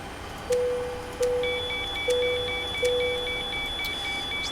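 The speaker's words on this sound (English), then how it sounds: "that alarm's just because we're running off the batteries" A cockpit alarm in a Zibo mod 737-800 flight simulator, running on battery power, repeats a steady electronic beep about every three-quarters of a second, joined by a higher continuous tone over a low background hum.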